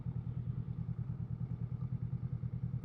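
Motorcycle engines on a road, heard as a low, steady mid-range rumble with a regular throb, fairly quiet, and no voices.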